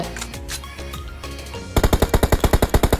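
Gunfire from the video game PUBG starts with scattered shots over a busy mix, then breaks into a loud, rapid automatic burst of about a dozen evenly spaced shots.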